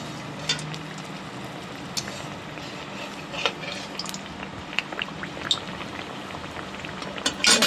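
Khaja dough pieces fry in moderately hot oil in a wok, giving a steady bubbling hiss broken by small pops and crackles, with a louder burst of spattering at the end; no one speaks.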